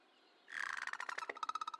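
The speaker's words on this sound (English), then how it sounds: "An agreeable caw." A crow in the video game Kentucky Route Zero gives a burst of rapid, rhythmic caws and chitters, fairly close and clear, with no talking over it.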